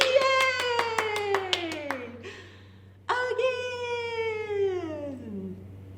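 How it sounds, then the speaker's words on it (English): Hands clap a quick, even series of about seven sharp claps under a woman's sung line in a song for babies, followed after a short gap by more singing with no further clapping. "Give a little clap, clap, clap"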